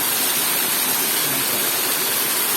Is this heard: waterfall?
yes